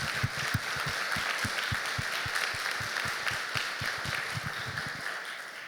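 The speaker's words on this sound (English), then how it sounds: "please join me in giving all of us a round of applause." An audience at an annual meeting applauds, a dense steady wash of clapping with sharp individual claps standing out, sustained for several seconds.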